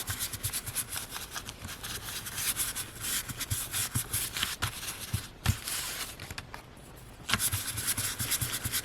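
A paint brush scrubbed hard back and forth to grind paint off, making a rapid, rhythmic, raspy scratching close up with one brief pause.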